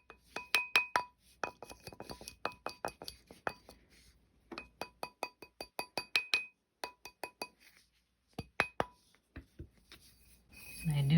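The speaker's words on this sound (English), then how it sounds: "And then I come through with a rawhide mallet." A rawhide mallet gently tapping a wire bead ring on a metal mandrel, with quick bursts of light clicking taps in irregular groups and short pauses, close and fairly quiet, ending in a rustle of handling.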